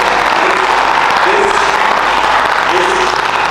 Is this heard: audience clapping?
yes